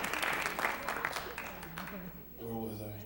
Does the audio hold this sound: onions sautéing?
no